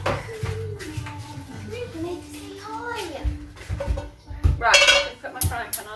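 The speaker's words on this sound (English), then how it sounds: "let me put my frying pan on" A frying pan set down on a kitchen stove, with a couple of sharp metallic clanks and clinks near the end, while someone talks over the clatter.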